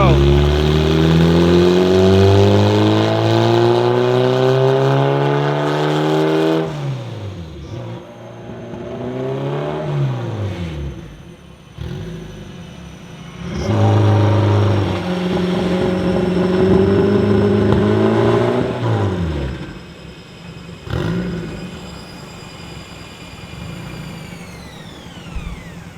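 A one-off Lotus engine making about 750 HP revs hard on a dyno during repeated power runs. Rising, high-pitched engine howls with whining turbo boost climb and cut off, separated by lulls, with voices heard between the pulls.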